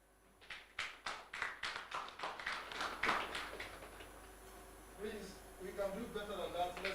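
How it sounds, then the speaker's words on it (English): Audience members at a research and innovation workshop give a round of distinct, rhythmic hand claps, close and crisp for a few seconds. The clapping then thins into a quieter room murmur with faint voices. "For a better round of applause"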